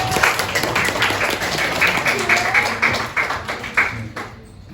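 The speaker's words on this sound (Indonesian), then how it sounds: "Tepuk tangan dulu." A class of sixth-grade children claps together in a classroom, a dense, steady patter of many hands lasting several seconds before thinning out and fading near the end.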